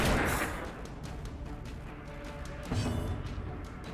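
A gunshot from the turn-based game Darkest Dungeon, a loud, booming blast that opens abruptly and fades into rumbling, followed by a second heavy thud.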